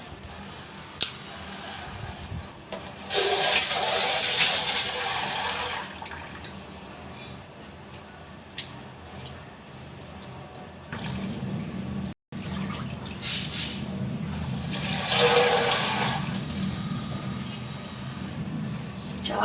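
Water splashes and runs in bursts as rice and lentils are washed by hand, with louder pouring surges separated by quieter stirring and trickling, fairly close.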